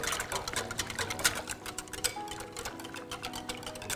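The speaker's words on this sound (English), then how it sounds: "you just want to keep whisking constantly" Rapid, steady whisking of olive oil into a basil-thyme vinaigrette makes a continuous run of quick, close ticking clicks with a dense, even rhythm and no talking.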